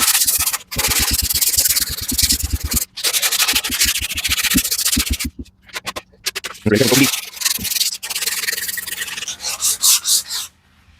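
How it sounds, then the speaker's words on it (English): Sandpaper rubs across wood during a console build, making rhythmic back-and-forth scratching strokes in several bursts separated by short pauses. "we'll take and sand it off just a little bit with the sandpaper, kind of clean it up"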